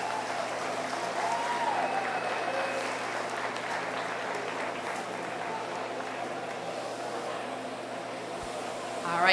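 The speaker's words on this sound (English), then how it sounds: "Give her a round of applause" An audience at a 4-H meat goat show applauds the reserve champion senior doe, the clapping steady and moderately distant in a large show hall, with a low room hum underneath.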